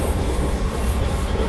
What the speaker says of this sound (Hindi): अभी देखो रानीगंज पे पैरेलल ओवरटेक मार रहे हैं हम लोग